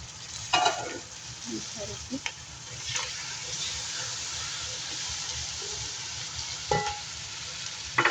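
Tomatoes frying in a pan with spices such as cloves and black peppercorns, a steady low sizzle with a few clinks and scrapes of stirring throughout, close and moderately quiet.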